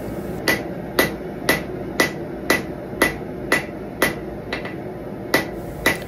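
Hot steel knife blade hammered at a forge, a steady series of about a dozen sharp ringing hammer blows spaced roughly half a second apart, close and loud.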